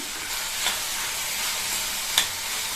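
Chopped tomatoes with salt sautéing in a pan for a kulambu give a steady, close sizzle, with two sharp spatula scrapes cutting through.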